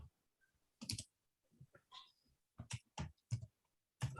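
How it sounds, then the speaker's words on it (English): Sparse, faint computer keyboard typing picked up over an online meeting call, short bursts of clicks separated by near silence. "Whoever's typing, maybe they want to mute."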